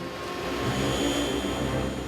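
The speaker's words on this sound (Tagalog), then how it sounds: "Talagang kahangahangang vacuum technology" A cartoon vacuum machine sucks with a loud, steady whirring roar and airy hiss, continuous and unbroken for the whole moment.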